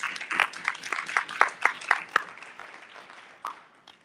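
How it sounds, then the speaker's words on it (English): Audience applause at the Greenwood Survivors and Descendants Homecoming event at the Greenwood Cultural Center, a scattered burst of clapping that thins out and fades, with a few final claps near the end. "Give them a round of applause."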